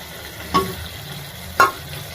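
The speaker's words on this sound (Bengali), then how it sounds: "এই টক দইটা এই পর্যায়ে দিয়ে দেব।" Beaten yogurt being stirred into an egg curry in a pan, two distinct scraping strokes of the spoon over a soft, low simmer, close and fairly loud.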